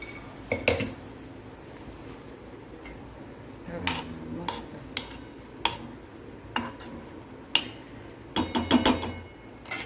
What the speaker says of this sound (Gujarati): હવે એની અંદર આપણે બાફેલા મગ દઈશું